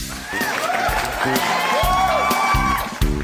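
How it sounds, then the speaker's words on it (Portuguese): Audience applause and cheering on a podcast set, a steady burst of clapping with whoops over a thumping beat, fading out near the end. "palmas pra ela"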